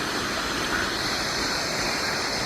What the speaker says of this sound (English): Let's go to the waterfall.